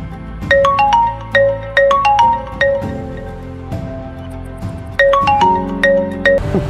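Telephone ringtone playing a repeated melodic electronic ring pattern, loud and close, cycling twice over steady background with no one answering and no speech.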